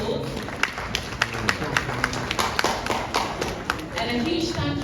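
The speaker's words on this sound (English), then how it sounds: "a round of applause" An audience at a campaign launch gives a round of applause, a dense, ongoing patter of hand claps with sharp separate slaps, steady throughout and fairly close, with a murmur of voices beneath.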